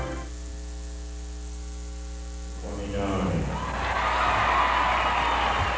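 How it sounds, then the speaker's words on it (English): A crowd yells and roars at a high school basketball regional final just won on a last-second shot, the cheering swelling up over a steady electrical hum and building louder toward the end. "You can hear the yelling right now."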